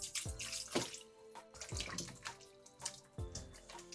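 Raw chicken pieces, already treated with lemon juice and vinegar, are rinsed under a running kitchen tap, giving a quiet, continuous splashing flow with irregular spatters and drips as the pieces are turned.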